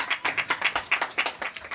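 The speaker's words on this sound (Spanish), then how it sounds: "Ahí está esa palmas" Hands clap at a birthday celebration in Rumichacha, Chuschi, a quick rhythmic run of about a dozen sharp claps from a small group, close and clear.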